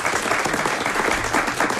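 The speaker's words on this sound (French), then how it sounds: "Applaudissements bien mérités pour cette question qui a collé les grosses têtes." A studio audience at the Les Grosses Têtes radio show claps in a dense, continuous burst of applause, loud and even throughout the short stretch.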